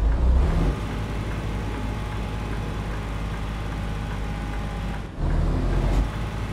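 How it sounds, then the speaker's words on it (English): A heavy truck's engine brake in American Truck Simulator gives a loud, steady low drone with gritty rumble, briefly dropping and then resuming strongly with rising intensity. "Let's listen to the engine brake."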